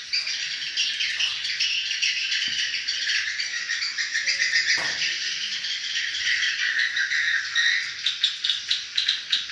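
Swiftlets call inside a swiftlet bird house, a dense continuous chorus of rapid buzzing, rattling clicks and chirps filling the enclosed space, steady and fairly loud with brief sharp ticks, no talking.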